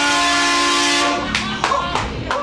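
A loud steady air horn mounted on the front end of a pickup truck blares for about a second, then breaks into short honks and clattering noise.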